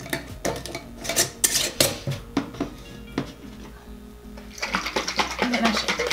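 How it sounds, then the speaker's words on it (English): Homemade salad dressing rattles in a lidded container, with a burst of sharp clattering shakes, a short pause, then a faster run of sloshing knocks close by. "And then I shake it."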